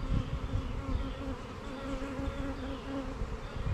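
Tree bees being moved into a modified extra-deep horizontal hive, a dense, continuous buzzing swarm heard close up and fairly loud, with no talking.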